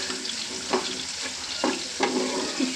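Chapila fish frying in a pan gives a dense, steady sizzle close by, with a few soft knocks from turning or stirring spread through it and no talk.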